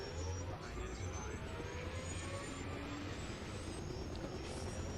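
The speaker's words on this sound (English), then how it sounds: "the helicopters are making weird ass noises" Helicopters in the video game ARMA Reforger: a steady, droning engine roar with a whining high tone, continuous and fairly loud throughout.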